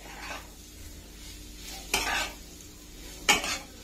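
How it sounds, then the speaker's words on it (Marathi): Jackfruit sautéing in a pan with salt and chili, a soft sizzle under a few scraping stirs with a spatula, two sharper clinks against the pan, close and without talk. "व्यवस्थित परतून घ्यायची, कारण तिखट मीठ सगळीकडे लागलं पाहिजे."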